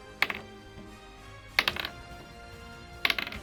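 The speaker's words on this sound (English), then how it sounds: "Versus a normal dice." An ordinary die rolled three times, each roll a quick clatter of sharp little clicks and bounces followed by quiet, close and distinct with no voices.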